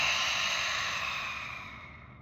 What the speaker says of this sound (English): Big audible exhale.